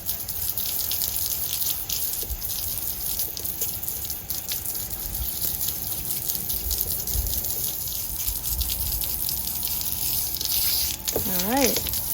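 Running water from a tap or hose splashes and gushes steadily over blades being rinsed, fairly close and continuous, with a high whine in the background and a brief warbling sound near the end.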